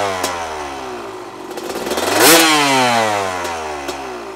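Honda CR250 two-stroke dirt bike with a Lectron carburetor, revved in a couple of sharp blips that climb to a loud peak and fall away, close by and alone.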